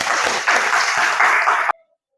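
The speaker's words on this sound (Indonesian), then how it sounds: "Tepuk tangan dulu untuk Alif." A class of students applauds a classmate, a dense burst of clapping for about 1.7 seconds that ends abruptly into silence.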